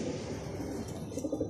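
Racing pigeons arriving home after a training flight in Candelaria, Quezon, giving soft, close, continuous cooing with steady low throaty pulses and no talk.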